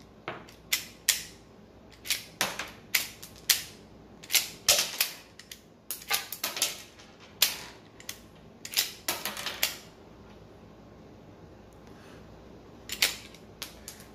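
S&W SD40VE pistol being cycled as rounds are chambered: a series of crisp metallic clacks and slide snaps, some in quick pairs, spread irregularly over the span with quieter gaps, close and fairly soft.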